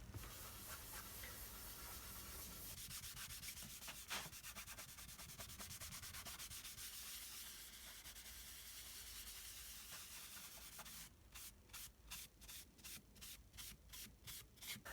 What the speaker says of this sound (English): apply the oil across the grain first, or perhaps even in circular motion